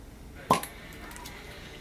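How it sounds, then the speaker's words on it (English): A cork pops out of a bottle of Apothic Brew coffee-infused wine in a single short, sharp pop, heard close and alone against a quiet background. "I'm gonna go ahead and uncork this bitch."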